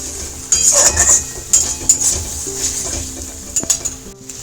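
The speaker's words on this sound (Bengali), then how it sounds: "আলুগুলোকে অ্যাড করে দিই" Potatoes tipped into a pan of sizzling fried spice paste, with a steady sizzle, scraping stirs and clinks of a utensil against the pan, up close.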